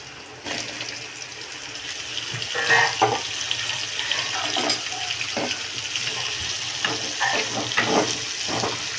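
Broad beans dropped into a hot pan with onion, curry leaves and dried chillies, giving a steady close sizzle with scattered clatter and stirring bursts throughout, no voices.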